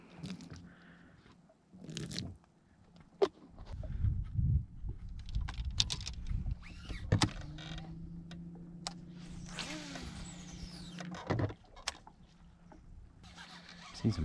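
A pedal-drive fishing kayak on a bass lake creaks and clicks close up in uneven bursts, with a steady mechanical hum running through the middle stretch.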